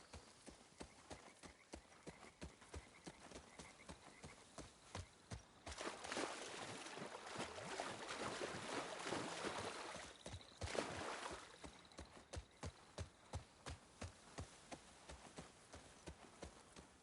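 Horse hooves clip-clop at a steady walking pace in The Last of Us Part 2, close and evenly rhythmic, while a burst of rushing noise rises in the middle before the hoofbeats carry on alone.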